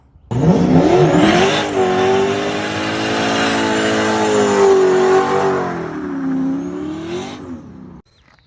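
A Chevy pickup truck, originally a V6 five-speed, drifting with its engine revving loud and close: one long sustained roar that rises and falls in pitch with tire squeal, cutting off sharply at the end.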